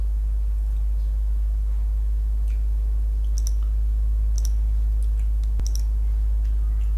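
A computer mouse clicking, with a few sharp, sparse clicks over a steady low hum, quiet and close, with no talk.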